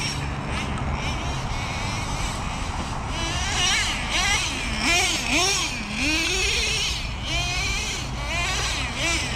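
Traxxas Nitro Revo 3.3 RC monster truck with big tires running on an outdoor track, its small nitro engine buzzing steadily with rising and falling revs and a bleating, whiny pitch throughout.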